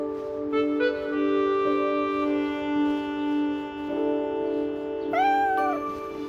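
A kitten meows in a sustained, tonal cry over a steady harmonic background, with a sharper rising-and-falling meow near the end; close and clear, no talk.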